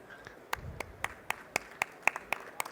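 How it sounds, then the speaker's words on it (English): A sparse audience at a technology panel discussion gives a thin round of applause, with about a dozen distinct, evenly spaced claps standing out over a quiet room. "Round of applause"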